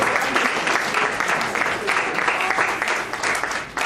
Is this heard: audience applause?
yes